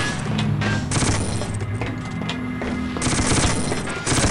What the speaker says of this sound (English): very full of people shooting at me.